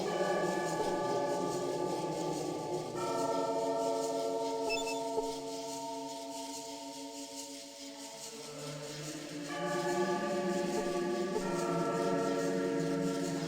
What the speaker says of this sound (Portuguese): Os sinos e cantos religiosos distorcidos da catedral